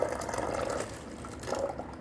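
Water is poured into a container holding a straw for an air pressure experiment, soft faint splashing and trickling in two short bursts, no talking.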